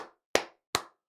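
Three sharp, close hand claps for a guest come at an even pace, each a crisp isolated smack with clear silence between them.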